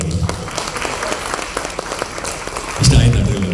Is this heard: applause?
yes